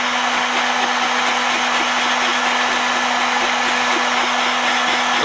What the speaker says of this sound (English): the heat gun is really going to make your job 100 times easier